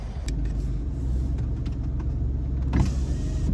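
Car cruising through a residential neighborhood in Richfield, Minnesota, a steady low interior road rumble with engine hum and no talk throughout.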